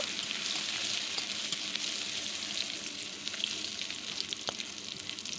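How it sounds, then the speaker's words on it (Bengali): Pumpkin vine greens hit a pan of hot oil with fried chili and garlic paste, producing a steady close sizzle with stirring scrapes and a sharp clink partway through. "এখন আমি সেই শাকটা দিয়ে দিচ্ছি"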